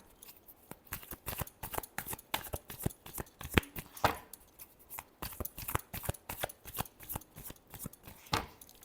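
Tarot cards are shuffled by hand, producing a steady run of quick, crisp snaps and riffles, close but fairly soft and heard alone.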